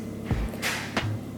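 Construction work on a fence outdoors in the background: two dull, moderately loud thuds about 0.7 seconds apart, each with a brief scrape or rustle, over a low steady hum.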